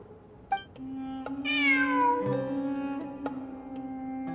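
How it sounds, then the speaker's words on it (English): A cat meows in Genshin Impact, a clear drawn-out rising-then-falling meow over a soft steady tone and quiet game background, with a few faint clicks around it. "It really is a cat."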